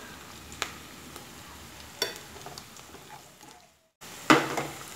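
Food sautéing in a pan for wheat rava biryani, with a steady low sizzle broken by a few sharp spatula clicks. A brief silent pause is followed by a louder burst of frying.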